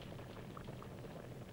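Milk bubbles in a cauldron as a cartoon fairytale sound effect, a faint, steady low simmer without any voices.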